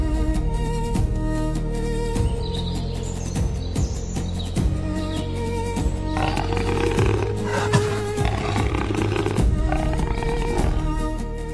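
Lionesses hunting a zebra roar and growl in deep, rumbling bursts, loud and close, with birds chirping faintly in the background.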